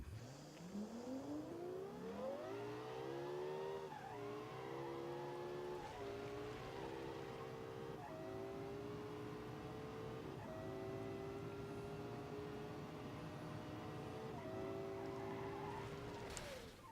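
A custom-built car driven in BeamNG Drive, its engine note steady and continuous, rising through gears with repeated shifts, no talk over it.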